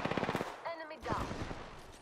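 Rapid automatic weapon fire in the shooter Apex Legends, a quick rattling burst of evenly spaced shots followed by a brief pause, an in-game tone and then more shots, all fairly close and loud.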